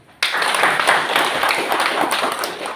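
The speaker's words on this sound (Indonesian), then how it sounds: "Tepuk tangan dulu." A crowd at a Bali regional election campaign rally in Tabanan breaks into applause, a sudden dense wash of clapping that starts abruptly and holds steady and loud throughout.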